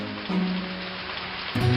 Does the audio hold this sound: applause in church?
no